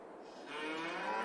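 Young Holstein cattle, about twelve months old, low mooing that swells and grows louder toward the end, close by on a farm with no talking.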